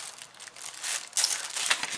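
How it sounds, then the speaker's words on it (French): Paper crinkles and tears up close while a card goes back into an envelope, a short run of dry, bright rustling and ripping bursts that gets louder partway through, with no talking. "Parce que j'ai déchiré le papier."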